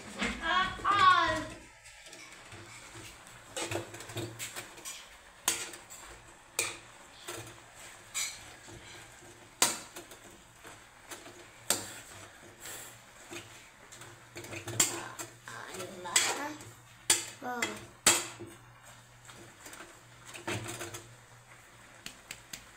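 Spoon scraping and clinking against a cooking pot while stirring a green papaya dish with lumbay, in scattered irregular knocks and scrapes with a person talking at times.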